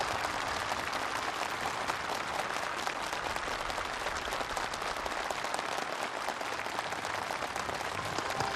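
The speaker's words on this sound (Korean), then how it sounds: "살림집 이용 허가증이 참가자들의 열렬한 박수 속에 전달됐습니다." Enthusiastic applause from a crowd of officials, builders and farm workers at a ceremony handing over new house permits, a dense steady roar of many hands clapping loudly for the whole stretch.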